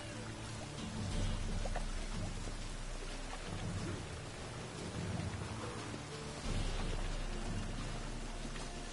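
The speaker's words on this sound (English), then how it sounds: "Looks like rain." Steady rain pours down in a storm, with rolling thunder rumbling underneath in two heavier swells; the whole scene is dense and fairly distant, with no voices.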